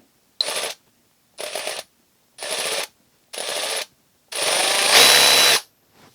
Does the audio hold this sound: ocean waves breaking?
no